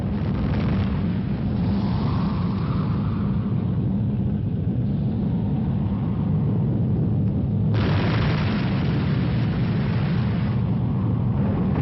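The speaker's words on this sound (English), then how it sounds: "Experienced their first atomic explosion" An atomic bomb detonates at a military test site where equipment stands ready and troops wait in trenches, making a deep, loud, continuous roaring rumble that fills the whole stretch with a broad swell near the end, and no voices.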